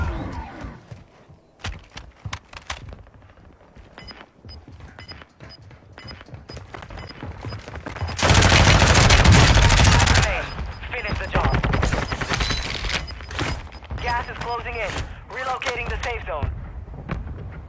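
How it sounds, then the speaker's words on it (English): Rapid bursts of video game gunfire crackle in a shootout, with scattered shots, then a dense loud fusillade in the middle, and people talking over the fighting. "That guy was shooting Breezy like pretty fast."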